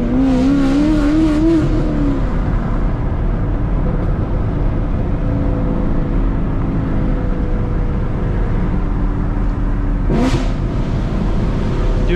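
A Chevrolet Camaro engine revs loudly in the opening seconds with a rising, pulsing note, then settles into a steady droning run, with a brief sharp burst near the end.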